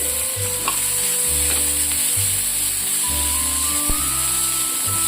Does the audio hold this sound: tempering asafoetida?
yes